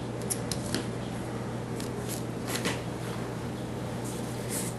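Scissors snipping off crocheted yarn tails, a few quick faint close clicks and cuts over a steady low hum.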